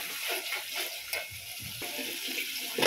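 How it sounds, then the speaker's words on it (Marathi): Masala for an Agri-Koli style wet bombil (Bombay duck) curry simmers in a small amount of water, giving a soft, steady sizzle and bubbling with faint stirring scrapes throughout. "आता हे मी मसाला आताच थोड्याशाच कमी पाण्यातच व्यवस्थित शिजू देणार आहे"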